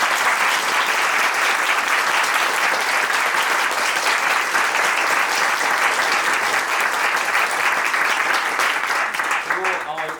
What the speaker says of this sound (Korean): 우리 그 스태프분들에게 잠시나마 그 큰 박수로 한번 인사를 드립니다.